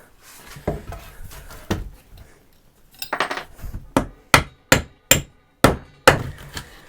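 Hammer blows knock nails out of a pallet wood board, a quick burst of light taps followed by about six sharp, evenly spaced loud whacks with a slight metallic ring, close by.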